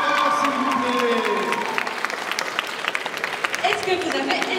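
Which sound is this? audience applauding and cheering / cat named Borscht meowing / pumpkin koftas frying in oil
audience applauding and cheering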